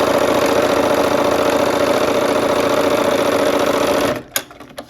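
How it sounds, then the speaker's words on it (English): A sewing machine stitches quilt pieces in a steady, fast mechanical whir with a close, even rattling hum, then abruptly stops, leaving a few faint clicks and handling sounds. "We're sewing a 1/4 inch on both sides"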